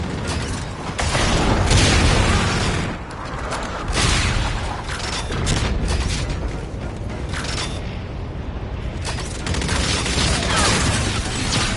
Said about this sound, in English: Enemy Trinity rocket in use.